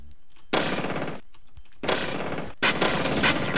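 Three loud bursts of automatic gunfire from enemies in the video game System Shock, each roughly a second long and separated by short pauses, close and dense.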